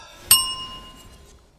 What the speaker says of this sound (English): Ring the punt bell.